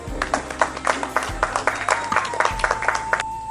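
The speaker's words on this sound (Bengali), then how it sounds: "একটা জোরে হাততালি হোক" A stage-show audience at a Chhau dance competition claps in quick, uneven bursts. The loud, close claps sit over a steady electrical hum.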